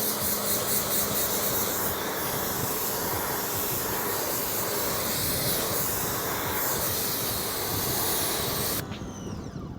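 A steady, loud hiss of paint sealant spraying onto a car runs for several seconds close up, then cuts off abruptly near the end.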